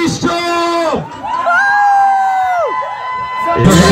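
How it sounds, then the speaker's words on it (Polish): Girls squealing at a stage show, high sustained shrieks over loud sung or shouted voices, with a crowd noise burst at the end. "I teraz dziewczyny z całej siły piszczą."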